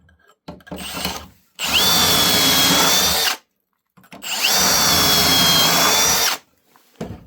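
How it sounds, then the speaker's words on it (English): A power drill with a pocket hole bit bores into wooden decking boards held in a pocket hole jig, in two loud, close, steady bursts of about two and a half seconds each, preceded by short handling noises. "I'm going to put pocket holes in the back of all of these with my trusty pocket hole jig"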